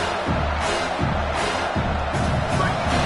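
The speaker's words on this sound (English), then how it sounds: "how nice is it to have the home crowd going absolutely bananas" Home crowd in a college football video game roaring loudly and steadily, a dense wall of cheering with rhythmic swells, while a commentator speaks over it.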